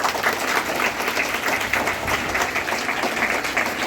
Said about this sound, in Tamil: ஒரு பலத்த கரகோஷம் கொடுக்கலாமா?